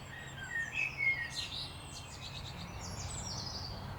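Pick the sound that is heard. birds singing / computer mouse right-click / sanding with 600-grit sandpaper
birds singing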